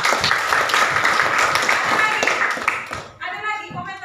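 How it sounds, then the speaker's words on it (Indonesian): Classroom of students clapping for a classmate, a dense, steady burst of many hands that breaks off near the end as a voice cuts in. "tepuk tangan dulu buat si Tika"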